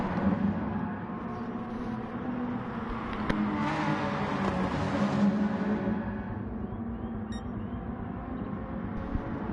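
Gr.4 race cars in Gran Turismo Sport, several engines howling together in a steady, loud drone as three cars chase the leader, with the pitch swelling and easing through the corners and no talk.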